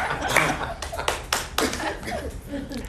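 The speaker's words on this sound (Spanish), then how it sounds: "Gracias por ese aplauso" Studio audience applauding on a Spanish-language television talk show, a burst of hand claps with scattered laughter, mixed with a man's speech.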